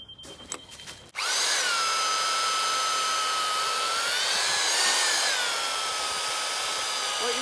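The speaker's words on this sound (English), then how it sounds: "I will then get my drill with 25mm drill bit in and punch some holes through there." A power drill with a 25mm spade bit whines loudly and steadily as it bores holes through timber, starting abruptly after a short quiet moment and holding its pitch.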